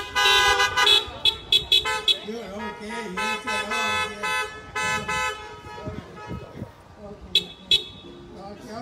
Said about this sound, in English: If you can hear me, blow your horn.